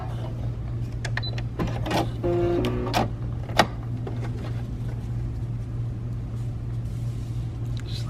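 Baby Lock Presto II sewing machine stitching denim, a busy mechanical stitching rattle in short bursts over a steady motor hum, with a sharp click near the middle.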